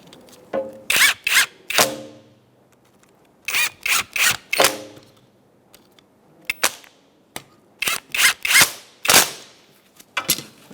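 A power tool drives and tightens bolts on a 2002-2006 Toyota Camry front window regulator, firing in loud, close, rapid rattling bursts separated by short pauses.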